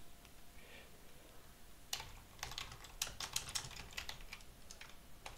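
A search query typed on a computer keyboard, a quick, irregular run of light clicking keystrokes that begins partway through and continues close and faint over low room noise.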